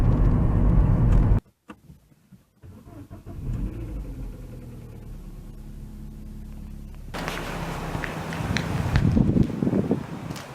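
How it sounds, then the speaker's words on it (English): A Vauxhall Astra engine runs steadily after a cold start, a moderate idle hum that picks up and grows rougher toward the end, recorded outdoors with some wind. "This is probably just a thing, you know, with cold starts and all that, because the engine seems perfect and the car is going fine."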